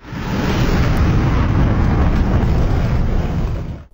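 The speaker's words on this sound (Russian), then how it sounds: "По Гагаузскому селу Копчак прошлись ливни с грозами и выпал град размером с черешню." A thunderstorm with heavy rain and cherry-sized hail over the village of Kopchak in Gagauzia, heard as a loud, dense, continuous roar of pounding precipitation that holds steady for the whole stretch before fading at the end.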